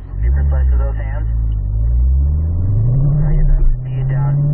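A Corvette at a racing school accelerates through a car control exercise at around 40 mph, its engine droning loud and close, rising in pitch as it pulls, with an instructor talking over it.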